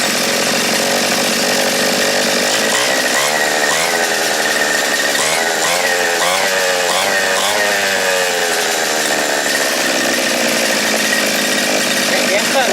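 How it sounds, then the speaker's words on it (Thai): Small engine, just back from a carburettor repair, revving hard, a loud, buzzing, continuous drone that climbs and wavers in pitch as the throttle is worked, very close, with someone talking at times under it. "เสียงเครื่องจะเร่งขึ้นมาเลยนะครับถ้าว่าเครื่องมันสมบูรณ์ขึ้นนะ"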